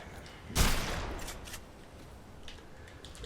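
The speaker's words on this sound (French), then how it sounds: "Il défouraille le flingue" A single loud gunshot blast rings out in the zombie video game Dead Island, followed by a few fainter shots and game sounds trailing off.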